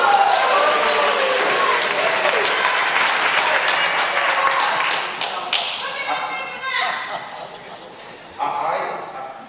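Audience at a town hall meeting in Exeter breaks into sustained applause and scattered cheers, loud and dense at first, then thinning into lighter clapping with a brief renewed burst near the end.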